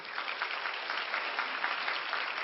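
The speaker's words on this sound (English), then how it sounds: "Let's get a round of applause." Dense, steady applause from an audience, a continuous wash of clapping holding level throughout with no individual claps standing out.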